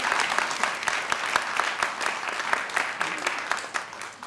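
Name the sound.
audience applause for Helen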